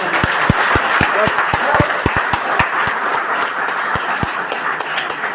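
Applause from an audience at a public speaking event fills the space continuously, with many close, sharp individual claps standing out over the dense crowd patter.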